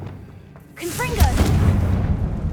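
A Confringo blasting curse explodes in the magic game Hogwarts Legacy, a loud booming blast with a rushing, crackling tail, mixed with brief voice-like calls.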